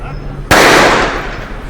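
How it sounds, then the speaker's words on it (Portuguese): A single sharp gunshot cracks out in a recording, a sudden loud bang with a decaying noisy tail over a steady low background hum. "aponta a arma e efetua mais um disparo"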